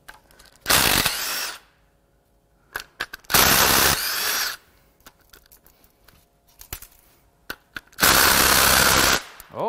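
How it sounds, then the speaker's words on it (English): A cordless chuck driver spinning out head bolts on a burned Chevrolet Silverado 6.0 LQ4 V8 during teardown: three loud, sustained rattling impact bursts of about a second each, separated by quieter clicks and clanks of handling, close up. "we're gonna try using my cordless chuck driver that I use for most of my teardowns"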